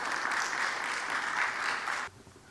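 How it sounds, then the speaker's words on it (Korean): Warm audience applause greets a professor arriving to lecture at a church forum, a dense steady roar of clapping that stops abruptly near the end, leaving a quiet room. "우리 교수님 나오실 때 우리 뜨거운 박수로 축복해 주시고 환영해 주시면 감사하겠습니다"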